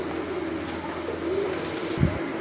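Pure shikra pigeons coo softly in a low, rolling murmur, faint under steady background noise, with a brief thump near the end.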